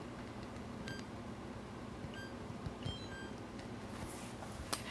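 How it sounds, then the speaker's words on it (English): A kitchen oven timer being set gives a few short, high electronic beeps at spaced intervals over a steady background hum. "And we'll set the timer."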